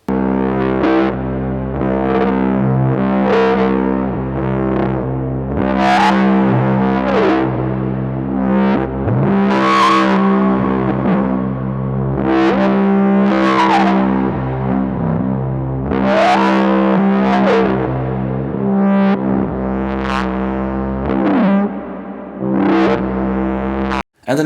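A resonant synth drone runs through Erica Synths Black low-pass and high-pass filters, with sine-wave-modulated resonance and randomly shifting cutoffs. Gritty sustained tones repeatedly swell into sweeping resonant peaks and then fall back.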